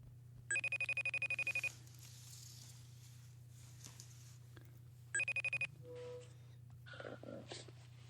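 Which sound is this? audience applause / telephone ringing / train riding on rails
telephone ringing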